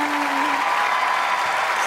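A studio audience at The Voice Thailand bursts into loud, continuous applause for a contestant after her performance, a brief dense wash of clapping.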